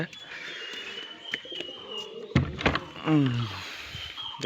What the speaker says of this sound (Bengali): এই যে কবুতরগুলো এখানে আছে